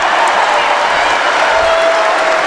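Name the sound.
basketball crowd cheering after a three-pointer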